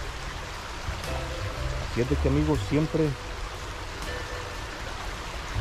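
A river flows steadily along its bank, a continuous close wash of water running under a voice speaking in the middle of the stretch.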